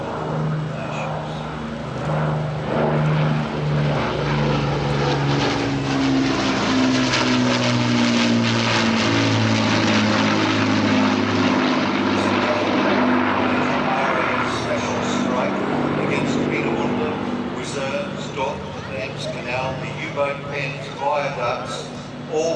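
A Lancaster bomber's propeller engines drone overhead at an air festival, a loud sustained throbbing roar that slowly shifts pitch as the aircraft passes, with a voice talking over it throughout.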